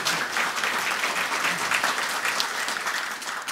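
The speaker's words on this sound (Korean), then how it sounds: "여러분 박수를 부탁드리겠습니다." Steady audience applause fills a hall at a Korean award and scholarship ceremony, dense sustained clapping from a large crowd lasting the whole moment without speech.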